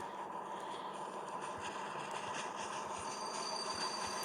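A train shunts in the video game Train Sim, a continuous rumbling rail roll with clicking wheel-over-joint thumps and faint high squeals, steady and fairly close.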